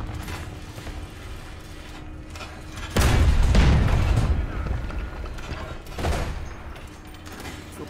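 Two sharp gunshot blasts in the video game War Thunder, the first heavy and booming with a lingering rumble, the second shorter a few seconds later, over a steady background hum.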